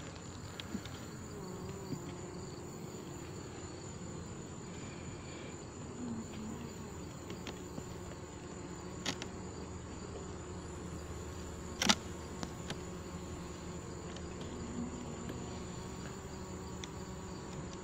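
Honeybees buzz around an open hive during an inspection as frames are pulled, a steady insect hum with faint crackles and a few brief knocks.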